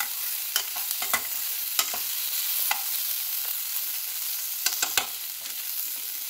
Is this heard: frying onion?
yes